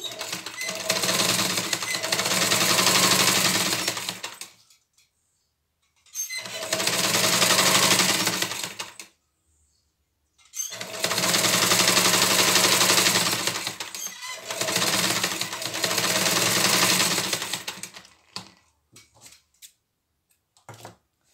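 Sewing machine stitching a patchwork fabric 3D face mask, starting with a backstitch, in four loud bursts of rapid stitching separated by short pauses, close and with no talking.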